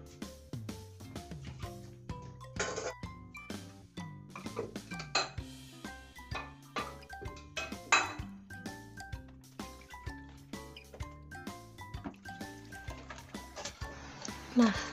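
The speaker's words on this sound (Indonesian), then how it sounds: "cuci piring, cuci alat masak yang kemarin malam saya rendam" Dishes and soaked cooking utensils are washed in a home kitchen: frequent clinks and clatters of plates, pots and cutlery ring out close by in an irregular, busy rhythm.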